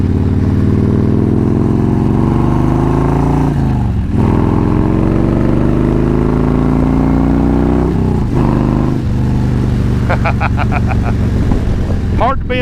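A motorcycle engine drones loudly up close, pitch climbing through gear shifts with brief dips between, wind noise and some talk near the end.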